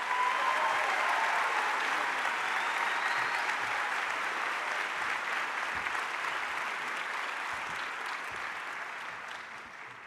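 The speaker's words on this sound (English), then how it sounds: "Please join me in applauding our doctoral graduates." Sustained audience applause for doctoral graduates at a university hooding ceremony, a dense even wash of many hands clapping throughout, slowly tapering toward the end.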